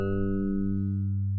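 Reversed FM wavetable patch from a Hive 2.1 software synth: a sustained harmonic tone with a steady stack of overtones that swells slightly then holds, loud and close, with no talking.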